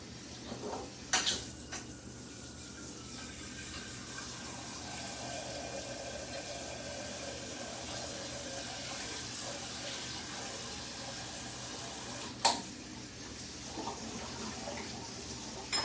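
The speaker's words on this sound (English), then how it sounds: "I'm going to put this in the sink and get some water on that so it doesn't get crusty" Tap water runs steadily into a gravy pan in a kitchen sink, a soft continuous splashing stream with a couple of sharp clanks of the pan near the start and again later.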